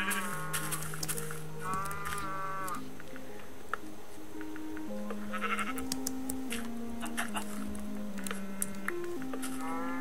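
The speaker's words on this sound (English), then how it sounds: "Oh, and there's a sheep going on there." Sheep bleat repeatedly in the Minecraft video game, several short wavering calls over a soft background with rain and other game sounds.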